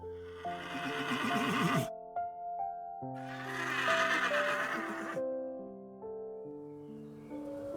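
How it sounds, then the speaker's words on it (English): Several horses neigh and whinny in long, wavering calls, one after another, with short pauses between, sounding somewhat distant. "Far away, you can hear the distant neigh of horses."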